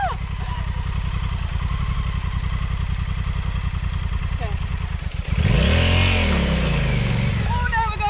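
Honda Africa Twin CRF1100L motorcycle on a muddy UK green lane, engine pulsing in a rapid low idle, then surging loud in a sharp rev that rises and falls, with a person speaking over it.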